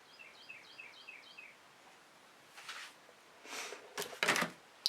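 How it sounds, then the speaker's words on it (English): Birds chirp outdoors in a quick series of faint, high repeated calls, followed by louder close scraping and tapping sounds. "The birds are happy today."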